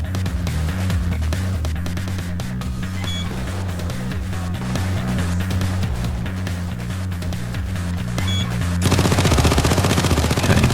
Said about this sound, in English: turret's busy away there shooting the crap out of everything